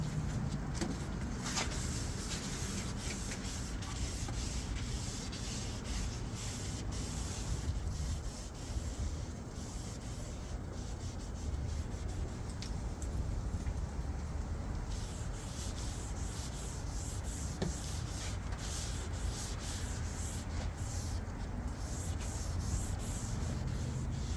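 Continuous rubbing and scuffing as finish is sprayed and wiped onto the back of a wooden cabinet base, a steady close-up friction texture running throughout without speech.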